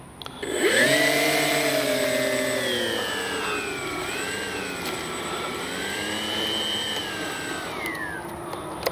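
An RC B-25J warbird model airplane's electric motor spins up with a rising whine, then holds a steady, close, loud whirring hum with slight pitch wavers throughout.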